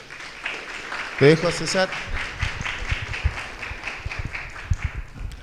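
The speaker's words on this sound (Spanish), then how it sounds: "un fuerte aplauso para él, por favor" Scattered audience clapping at a book presentation, soft and intermittent beneath a man's brief spoken remark and ongoing room chatter.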